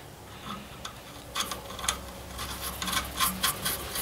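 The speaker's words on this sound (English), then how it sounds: "I just want to see if this is going to thread on here alright." Metal clutch actuator rod for a Ford 2N tractor being threaded on by hand, close soft scraping and clicking in short bursts that grow busier toward the end.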